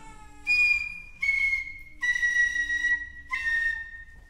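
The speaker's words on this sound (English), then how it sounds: "a piccolo player just wanted to play. She'd blow a tune that would soar aloft." A piccolo plays a high, soaring tune in four sustained phrases with brief gaps between them, bright and clear over a quiet background.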